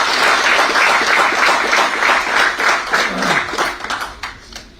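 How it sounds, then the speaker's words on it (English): A conference audience gives a round of applause to welcome the chief guest at an inaugural function. Many hands clap in a loud, sustained burst that thins toward the end. "Ladies and gentlemen, join me in welcoming him with a round of applause."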